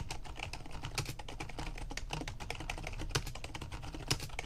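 Rapid typing on a Rosewill Neon M51 gaming keyboard, a steady stream of clacking keystrokes picked up from about a foot away, with no talking.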